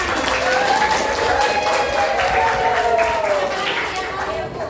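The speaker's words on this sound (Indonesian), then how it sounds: "Kasih tepuk tangan." Students in a junior high maths class give a round of applause, steady crowded clapping throughout with voices and chatter mixed in.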